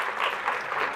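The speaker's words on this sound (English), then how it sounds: "Let's clap it up for Rhea for making our videos today." Brief burst of audience applause at a business talk on A.I. tools, dense close clapping that stays steady for the whole second.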